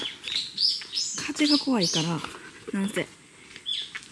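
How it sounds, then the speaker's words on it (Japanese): Birds singing in a forest on Fukue Island in the Goto Islands: bright chirps and warbling whistles come in repeated phrases, fairly close and clear, while people talk over part of it. "すごい鳥鳴いてますやん。"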